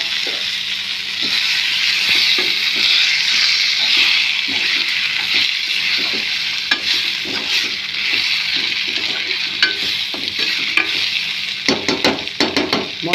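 Tomato pieces fry with onions in a pan for egg curry, a steady close sizzle with repeated scraping stirs and clinks of a spoon against the pan, growing busier toward the end, with no talking.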